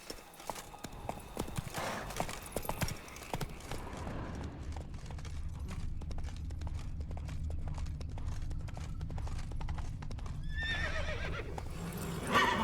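Roach the horse gallops in The Witcher 3: Wild Hunt – Blood and Wine, with steady rhythmic hoofbeats close by and sharp neighs near the end, over a low rumbling game backdrop.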